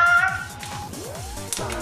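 A house cat meows up close in a clear, rising-and-falling call, then begins another meow as the clip ends, over a faint background hum.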